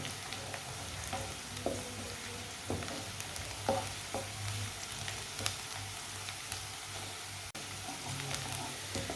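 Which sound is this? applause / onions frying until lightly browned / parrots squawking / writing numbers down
onions frying until lightly browned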